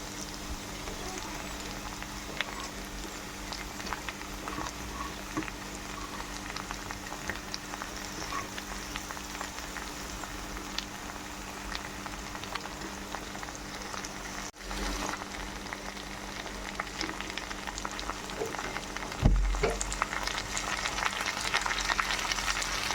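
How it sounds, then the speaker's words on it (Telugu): Tomatoes and okra sizzle steadily in a hot pan, a continuous close crackle and hiss, with a brief knock or stir near the end. "ఈ టమాటాలు బెండకాయలు బాగా ఫ్రై చేసుకోవాలి."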